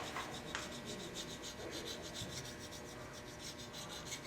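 A ring tool's inside bevel is honed with a 1200 grit abrasive, giving soft, quiet rubbing and rasping strokes that repeat close up with no talking.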